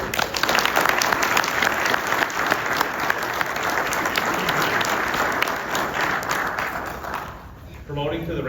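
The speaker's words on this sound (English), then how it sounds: "And a round of applause for Sergeant" An audience at a sheriff's office awards and promotions ceremony gives steady, dense applause to a newly promoted sergeant for about seven seconds before it thins out and a voice begins speaking.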